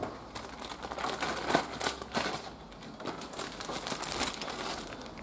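A bag of rear brake springs for a Triumph Spitfire being handled, giving close, continuous crinkling of the bag with faint metallic clicks and rustles throughout.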